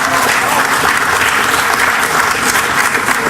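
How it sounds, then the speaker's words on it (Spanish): A large audience at a national hospital congress opening ceremony applauds, a loud, sustained, even roar of clapping that holds steady throughout. "Entonces, démosle otro aplauso."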